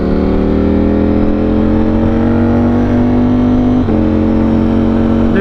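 Motorcycle engine running steadily and loud while being ridden on the way to a racetrack, with a sustained droning tone that rises slowly, briefly dips near the end, then holds.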